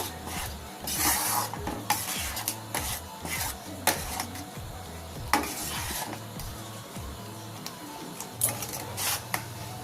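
Ripe mango jelly with melted sugar boiling in a pot over a medium gas flame, stirred with a spoon that scrapes and knocks against the pot in repeated close strokes over a steady bubbling hiss, with no talking.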